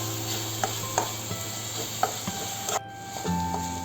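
Low sizzling of turmeric, chilli powder and salt frying in a pan for Telugu fish curry, with soft scraping and stirring clicks at irregular intervals, fairly quiet and close.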